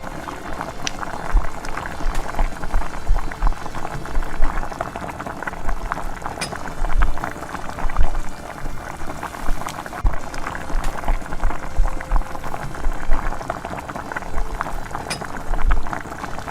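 Liquid khoa being poured over Hyderabad-style double ka meetha, a bread dessert, giving a steady close bubbling, seething wash that runs continuously with small surges and no voices.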